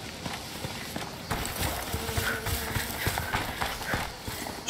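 Horse hooves clip-clop steadily on the ground in the video game A Plague Tale: Requiem, fairly close, with a faint voice speaking underneath.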